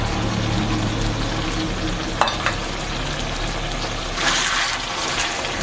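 Mustard paste sizzles loudly in a hot pan while shorshe chicken cooks, a steady, close, dense frying hiss with a brief scrape of stirring near the middle and a louder surge of sizzle toward the end.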